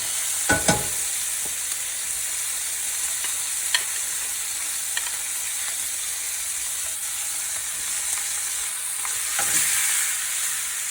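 A porterhouse steak sears in a greased pan, giving a steady loud sizzle throughout, with a few sharp clicks and scrapes near the start and again toward the end.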